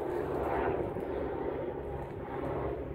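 Helicopter passing over a rural Caatinga setting, heard as a steady, moderately faint engine and rotor rumble that holds constant throughout with no talking.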